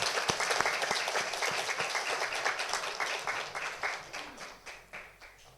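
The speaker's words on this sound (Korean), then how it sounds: "하나님 앞에 큰 박수로 영광을 돌립니다" A congregation applauds loudly during a Sunday morning worship service, with individual claps audible at first, then fading gradually toward the end.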